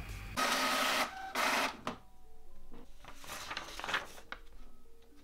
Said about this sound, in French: on va cliquer ici sur imprimer et vous allez l'imprimer